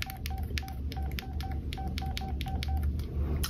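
A cell phone keypad gives short tones as a text message is typed, rapid irregular beeps at close range mixed with clicks of the keys, steady and fairly loud throughout.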